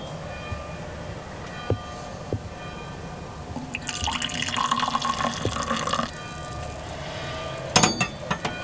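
Coffee is poured into a glass in a van kitchen in Italy, a steady liquid pour lasting about two seconds with a few drips and light clinks around it.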